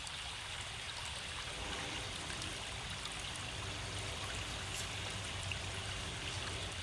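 Water trickles steadily into a potted plant during repotting, a faint continuous pour with a soft splashing hiss and no talking.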